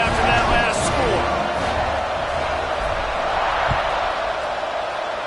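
A stadium crowd buzzing at a football game after a score, a dense, loud wash of many voices and cheers spread far and wide, steady throughout with a few sharper shouts near the start.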